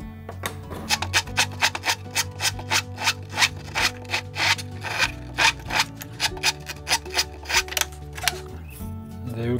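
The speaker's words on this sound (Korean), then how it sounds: "이제 이게 톱질하기 위해서 길을 먼저 만들어 놓는 거예요." A hand saw rasps a starting groove into wood in a quick, even run of back-and-forth strokes, each stroke a crisp scratchy burst, heard close up and alone.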